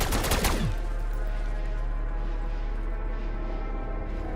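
A Feng 82 light machine gun in Black Ops 6 fires a loud sustained burst of rapid automatic shots lasting about half a second, followed by a low steady hum of the game.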